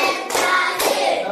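A group doing the 'tepuk semangat' clap routine in a classroom: two distinct, sharp unison claps about half a second apart, close and loud, with no talking.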